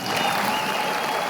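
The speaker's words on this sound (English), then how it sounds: "There's applause?" A short burst of steady applause from a crowd, a dense even clatter of clapping at moderate level, heard alone without voices.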